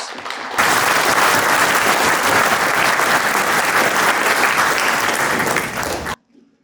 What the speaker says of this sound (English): And so let's give him a round of applause.